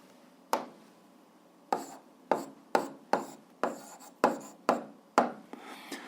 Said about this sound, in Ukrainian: Записуємо тоді так.